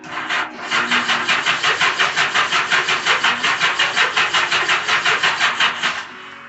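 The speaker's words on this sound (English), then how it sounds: "This engine will fire at some point." A 1985 Honda GL1200 Interstate motorcycle engine cranking over on a weak, undersized battery, a steady rapid rhythmic churn of the starter that runs without firing for about six seconds, loud and close, with no voices.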